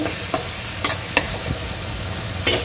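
Tomatoes sizzling in a pan for a drumstick and potato curry, a steady frying hiss broken by a few sharp scrapes and clinks of stirring, close by with no talking.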